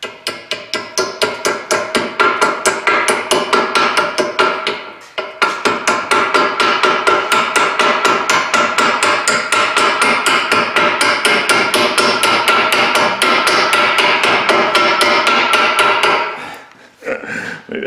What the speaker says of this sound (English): should get a bigger hammer.